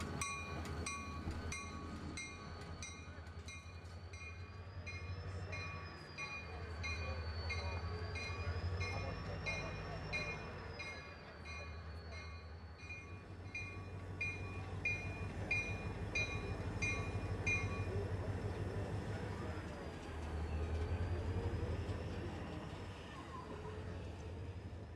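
A train rolls past with a low diesel drone from Norfolk Southern locomotives including former Southern Railway SD40-2 3216, rhythmic rail clatter, and a high squealing tone wavering above; fairly distant and steady.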